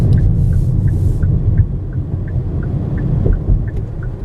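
A 2015 Hyundai Sonata accelerates, its engine a low, steady rumble heard from inside the cabin with faint road hum and no talking.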